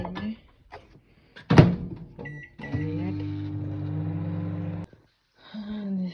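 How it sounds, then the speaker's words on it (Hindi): Microwave oven heating milk runs with a steady low hum for a couple of seconds, after a door thunk and clicks, then stops and clicks again. "ये हम दूध गर्म करेंगे माइक्रोवेव में"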